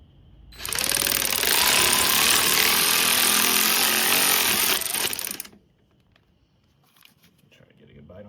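A power tool drives a socket onto the top bolt of a Trailboss 250 motor in one loud, harsh, rattling burst lasting about five seconds, then cuts off into quiet shop background.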